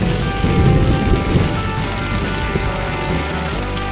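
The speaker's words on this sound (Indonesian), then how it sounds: "Hujan terjadi terus-menerus sepanjang malam." Heavy rain pours steadily and loudly without a break, a dense, even wash of drops drumming on surfaces with no voices.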